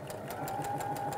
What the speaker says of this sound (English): I'm going to sew now with my quarter inch seam.